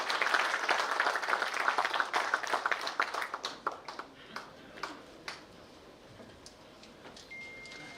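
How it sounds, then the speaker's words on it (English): Applause from the audience at an industry association general meeting in Goa, greeting the chief guest: moderate clapping that thins into scattered claps and fades over several seconds, heard at some distance. "please give him a big round of applause and welcome our chief guest for today's EGM"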